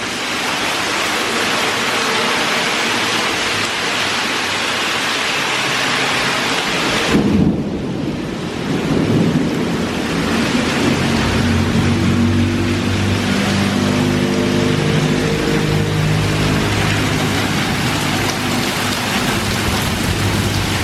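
A heavy thunderstorm over a yard, seen from a porch, with steady loud rain drumming on surfaces and a close thunder crack midway followed by a long rolling rumble; no voices.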